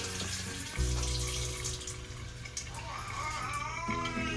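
Tap water runs steadily into a sink during hand washing, a continuous broadband splash with a heavier gush partway through and faint handling sounds near the end.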